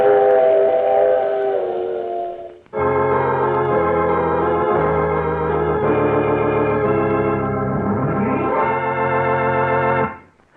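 A loud, sustained steam train whistle in a 1947 radio drama, sounding in long, harmonic blasts, breaking briefly before wailing again, with a faint rail rumble underneath.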